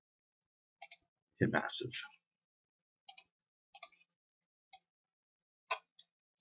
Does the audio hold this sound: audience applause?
no